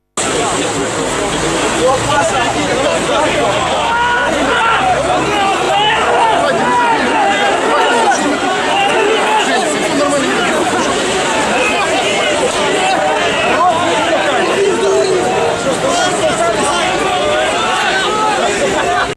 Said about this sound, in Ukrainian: Біля будівлі Одеського приморського суду зібралися близько ста активістів. Вони вигукували патріотичні гасла і палили шини.